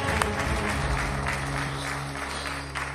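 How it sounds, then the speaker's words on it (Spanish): Studio audience on a quiz game show applauding a contestant after a correct answer, a broad patter of clapping over a low sustained musical hum, steady and fairly loud, gradually easing toward the end. "¡Fuerte el aplauso para Facu!"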